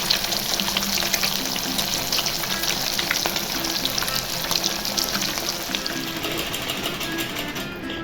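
Fish sizzles and crackles steadily in a hot frying pan, a dense continuous spatter close by with occasional sharper pops, no voices.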